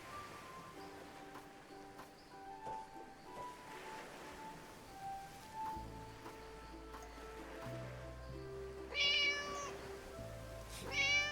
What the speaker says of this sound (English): Cat? Kitty!